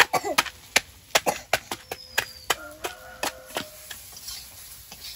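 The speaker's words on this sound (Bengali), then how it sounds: "বড়িগুলো একটু নোড়া দিয়ে ভেঙে নেব।" Lentil dumplings (bori) being crushed with a stone pestle give a series of sharp, irregular knocks, about a dozen close strikes that thin out and soften toward the end.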